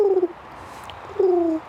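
Pigeon cooing close by, two short soft coos about a second apart, heard alone outdoors.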